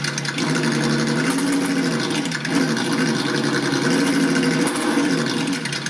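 An engine sound unit on a Thunder Tiger Bushmaster RC truck plays a continuous, steady idling rumble with slight rises and dips, close and alone with no talk.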